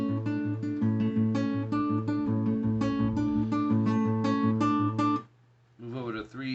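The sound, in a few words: acoustic guitar fingerpicking, Homicide Love by James Arthur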